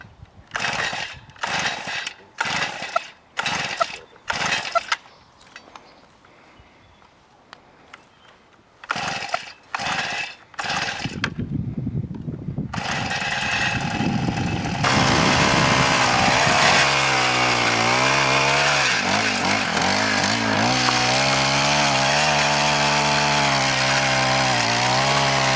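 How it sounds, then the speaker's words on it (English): Four-stroke Honda garden tiller: a series of sharp pull-start bursts, a pause, more pulls, then the engine catches and runs steadily, loud and close, with its tone shifting as it works. "Now we're going to try the 4-stroke Honda tiller."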